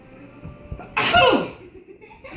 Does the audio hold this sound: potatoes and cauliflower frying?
no